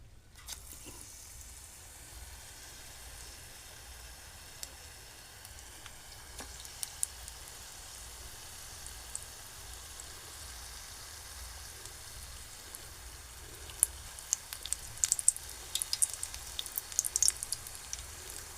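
Soybean bhaji fritters dropped one by one into hot oil, a steady low sizzle with crackling pops that grow denser and sharper toward the end, with no talking.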